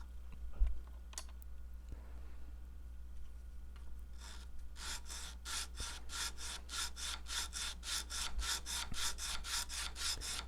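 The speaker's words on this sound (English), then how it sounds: "I don't have to sit here for an hour pulling sandpaper between the body and the neck." Sandpaper drawn back and forth at the neck joint of a Guild F212XL twelve-string acoustic guitar during a neck reset. Quiet, scattered scrapes at first, then a fast, steady run of close rasping strokes, with no talking.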